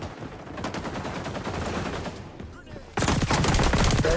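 AK rifle fire in XDefiant, fast automatic bursts heard nearby, growing sharply louder and denser in the last second as close-range firing takes over.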